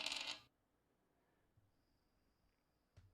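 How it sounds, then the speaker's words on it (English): Dice rolled during a tabletop board game rattle in a short burst at the start, followed by near silence with a faint tone and a small clack near the end. "Roll dice."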